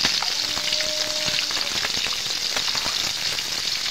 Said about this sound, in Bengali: মিচুড়িটা একটু নাড়িয়ে দেবো